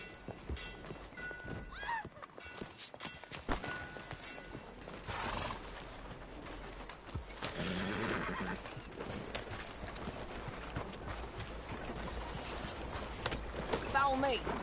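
Horse hooves clip-clop and a horse whinnies in a Western-style video game on PS4, with occasional mechanical thunks and characters talking over the riding sounds.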